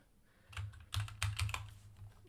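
Typing on a computer keyboard while filling in a trading journal: a quick, uneven burst of several crisp keystrokes close by, with no talking.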